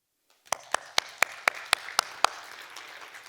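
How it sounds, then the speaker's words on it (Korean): A church congregation at a Wednesday worship service in Korea claps in a short burst of about eight sharp, evenly spaced hand claps after a moment of silence, close and clear. "스스로에게 박수 한번 보내보시죠"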